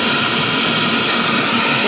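A vacuum motor runs with a loud, steady, broadband roar, close and constant throughout with no other sounds.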